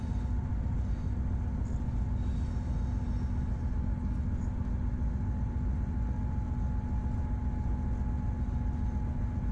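Diesel locomotive 295 088 rolls into a station in cab view, a steady low rumble with a sustained hum and faint high rail squeal running evenly throughout, no voices.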